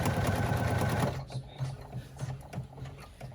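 Embroidery machine running a basting stitch on a striped fabric clutch, guided with a bamboo skewer: a loud, steady mechanical whirr and needle clatter that stops after about a second, followed by faint intermittent clicks and soft taps.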